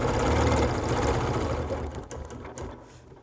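A sewing machine stitches a star-patterned quilt along a ruler, giving a fast, steady mechanical whir close by that slows and fades as the stitching stops.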